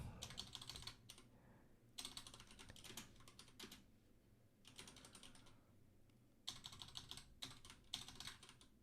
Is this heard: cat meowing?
no